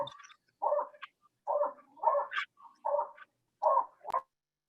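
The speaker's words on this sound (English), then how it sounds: "That dog wants some love." A dog gives a series of short, yelping barks or whines, about six bursts spaced roughly half a second apart, fairly faint and alone against silence.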